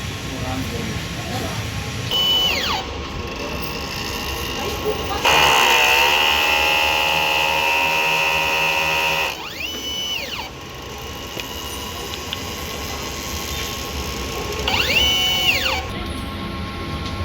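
A DTF printer runs its head cleaning cycle, with repeated rising and falling whirring motor sweeps from the carriage and pumps over a steady mechanical hum, a louder stretch in the middle.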